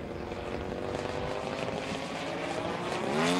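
A 42% scale RC model airplane powered by a DA-100 gas engine flying 3D aerobatics, its loud propeller drone rising and falling in pitch as it maneuvers, close and continuous.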